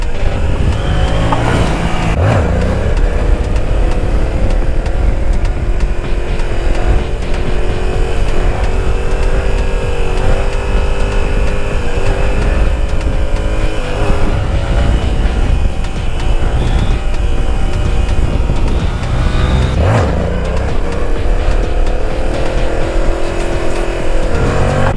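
Steady, loud engine drone of a Yamaha R7 sport motorcycle riding at speed, with continuous wind rush and occasional rises in revs.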